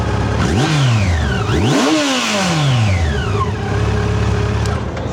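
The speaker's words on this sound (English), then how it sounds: "you can hear how quiet it is, but it's got a ton of power. I mean, this thing just revs up insanely fast." A Yamaha FJR1300 motorcycle engine revving hard several times, each rev rising and falling quickly in pitch, loud and close with no talk over it.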